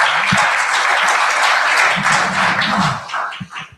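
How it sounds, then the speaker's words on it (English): Conference audience applauding a panel, a dense, loud wash of clapping from a large room that holds steady and then thins out toward the end, with a few isolated claps and brief murmurs. "Let's give these panelists a round of applause."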